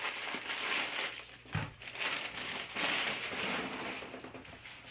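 A full roll of wreath material for a retro hippie bus wreath being cut into strips, with continuous close crinkling and rustling that swells and fades in waves, one brief dip midway.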